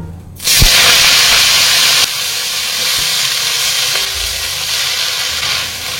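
Leafy greens (shaak) hit hot ghee with a sudden loud sizzle, then a steady, strong frying hiss with faint stirring clinks, no talking.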